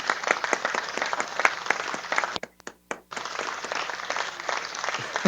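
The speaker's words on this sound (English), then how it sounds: "Can we get a round of applause for Malicious Sheep's appearance" A crowd claps steadily in a broadcast setting, dense even applause that drops out briefly for a moment before resuming at similar strength.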